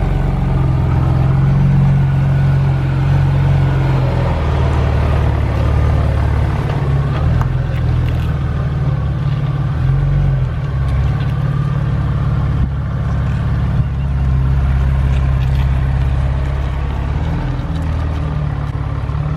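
A lowered Saab 9-3 Turbo X idles and creeps backward out of a driveway, its engine a loud, steady low rumble with slight variations in throttle throughout.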